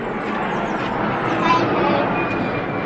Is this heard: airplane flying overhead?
yes